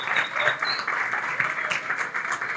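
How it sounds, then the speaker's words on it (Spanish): A church congregation applauds during a service, a steady wash of clapping from the room at moderate distance, fairly soft and continuous throughout. "Dale otro aplauso ahí al Señor por Valentina."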